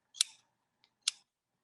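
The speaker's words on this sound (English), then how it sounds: "you're just gonna take your scissors and you're gonna separate those." Two crisp snips of scissors cutting through yarn loops of a pom-pom ball for a homemade pet toy, close and distinct with a faint tick between them in an otherwise quiet room.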